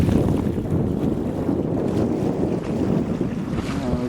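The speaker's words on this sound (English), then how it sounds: "We share crossing Harrow, about 4 knots in light winds" A sailboat crossing Haro Strait at about 4 knots in light wind, a continuous rushing of water along the hull mixed with heavy wind buffeting on the microphone.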